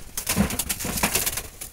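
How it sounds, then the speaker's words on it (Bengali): Jalali wild pigeons in a basket give soft, low cooing with rustling and a fluttering, scuffling noise, close and fairly busy throughout this short stretch. "পিওর জালালি জংলি বুনো কবুতর"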